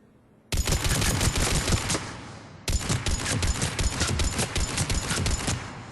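A Mattock rifle in Mass Effect 3 fired rapidly down the sights in two loud bursts of quick repeated shots, separated by a brief pause, with no talking.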